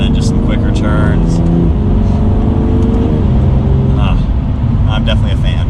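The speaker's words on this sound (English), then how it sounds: "that is like less than half throttle, and the car really just moves" A 2020 BMW M2 Competition at part throttle gives a loud, steady engine and exhaust drone from inside the car, with someone talking over it throughout.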